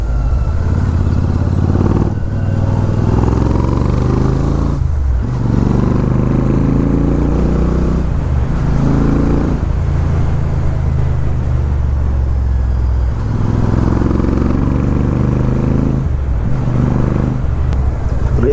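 A Royal Enfield Super Meteor 650 with a Red Rooster aftermarket exhaust revs repeatedly, its deep engine rumble rising and dropping in loud, close bursts with brief dips between throttle blips.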